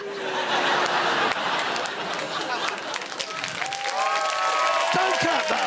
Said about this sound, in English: Don't clap that.